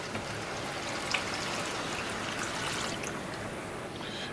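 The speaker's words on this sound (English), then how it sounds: "I'll bring water. It's 4 cups water." Four cups of water pour into a pot of dal and chicken drumstick curry in a home kitchen, a continuous soft splashing rush that runs steadily and fairly quietly throughout.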